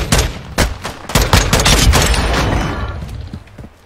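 Rapid bursts of automatic gunfire in a shooter video game, loud, close sharp shots clustered in quick volleys across the whole stretch, no talk over them.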